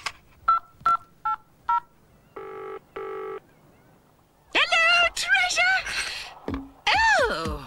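Keypad tones from a 1990s portable phone being dialled: several short, evenly spaced beeps and two longer tones, followed by a pause and then bursts of loud, excited voices and cries.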